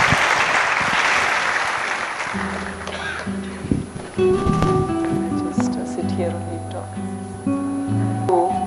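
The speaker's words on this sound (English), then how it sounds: "So everybody, a round of applause as we have ma'am for this" A crowd at the Yuva Dhvani event claps loudly and steadily for a speaker for a couple of seconds, then the clapping fades as sustained musical tones take over.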